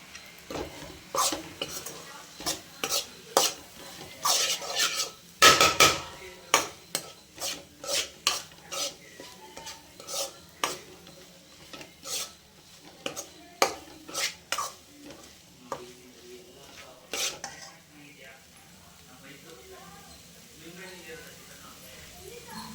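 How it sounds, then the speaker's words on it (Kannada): Mutton gravy fries in a pan while a utensil scrapes and stirs in rapid, repeated strokes, with a steady sizzle underneath and a voice talking over the cooking. "ಸ್ವಲ್ಪ ಫ್ರೈ ಮಾಡ್ಕೊಳ್ಳೋಣ."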